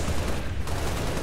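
Assault rifle gunfire in Halo: Reach Firefight mode, a dense, continuous rattle of rapid shots that stays loud and steady throughout.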